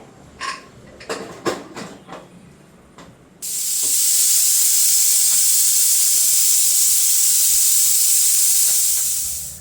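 After a few brief clinks, a pressure cooker releases a loud, continuous hiss of steam that holds steady for several seconds.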